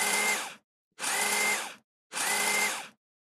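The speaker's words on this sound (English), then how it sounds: "we're going to secure that in here with three more of those KP screws" A power driver runs KP screws into a die-cast Optimus Prime model part in three short, even whirring bursts with brief silent pauses between, close and clear.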